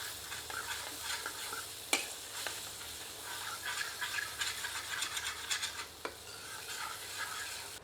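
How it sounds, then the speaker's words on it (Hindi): A ladle stirs butterfly-cut chicken in a pan, with soft sizzling beneath repeated close scraping strokes and a few sharp knocks against the metal. "एक बार अच्छी तरह करछी चलाते हैं।"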